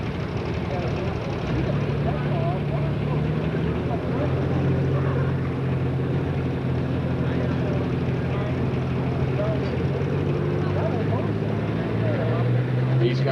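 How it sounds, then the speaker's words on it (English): Case Magnum tractor in a 10,000 lb Pro Stock tractor pull at Connersville, Indiana, 1995, engine revving up in a steady droning roar at a distance while an announcer talks over it. "He's bringing the RPMs up on the night moves, Case Magnum."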